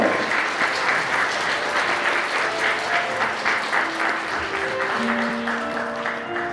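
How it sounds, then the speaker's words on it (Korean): Warm, sustained applause from wedding guests as the bride and groom bow to each other, steady and full throughout with a faint tone of background music beneath. "신랑 신부 맞절. 큰 박수 부탁드립니다."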